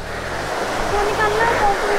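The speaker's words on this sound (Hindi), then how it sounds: "चलो झरने पर चलते हैं" Rushing waterfall at Nainital, a steady broadband roar of falling water filling the whole clip, with faint voices and tonal chatter mixed in beneath it.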